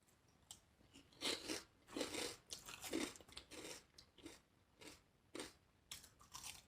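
Close, quiet crunching and chewing of a taco with lettuce, a series of about eight irregular bites and chews with no talk.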